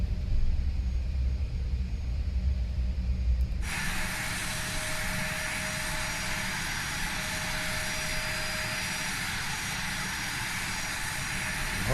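Embraer E170 jet engines idling in a flight simulator, a low rumble that abruptly opens into a loud, steady broadband whine and hiss partway through, continuing evenly with no talk.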